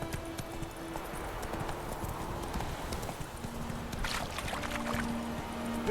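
A horse trots in The Witcher 3, its hooves a rhythmic, steady clip-clop under a continuous ambient background, fairly close and moderate in volume.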